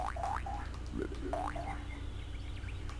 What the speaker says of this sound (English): Has a deep croak.